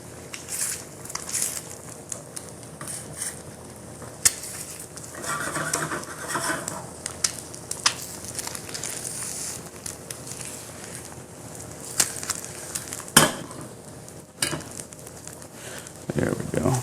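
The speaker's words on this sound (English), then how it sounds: "You want the egg to bubble and turn white, and then kind of just like skate around on the pan just like that" An egg fries in a pan while a rubber spatula pushes it around, giving a steady close sizzle with soft scraping and occasional light knocks against the pan.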